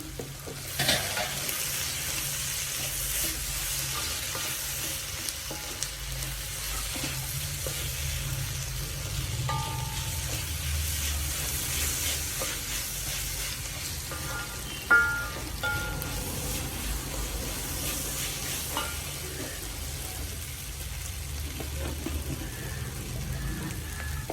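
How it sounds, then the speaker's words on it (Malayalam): Sliced onion frying with turmeric powder in a pan, a steady soft sizzle with occasional stirring scrapes and light clinks, close and even throughout with no talking. "ഉള്ളി നന്നായിട്ടൊന്ന് വാടിയിട്ടുണ്ട്"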